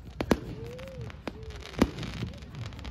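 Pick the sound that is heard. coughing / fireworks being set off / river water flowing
fireworks being set off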